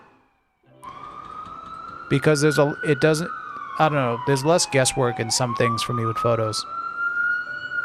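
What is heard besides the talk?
emergency vehicle siren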